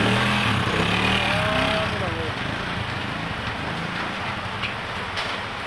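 Morning rain falls in a dense, steady hiss, with a low engine-like rumble and a voice over it early on.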